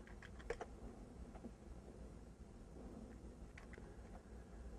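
Quiet keystrokes on a computer keyboard at a command line, a few soft clustered taps near the start and again toward the end over faint background hiss.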